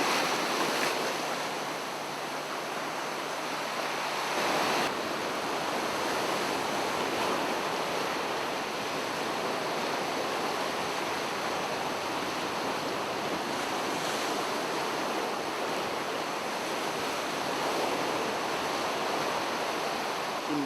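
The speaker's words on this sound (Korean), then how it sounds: "너울 파도가 상당히 심하거든요." Heavy ocean swell breaking at a rocky fishing spot on the coast of the East Sea of Korea, a steady loud roar of surf and wash with wind noise throughout, no voices.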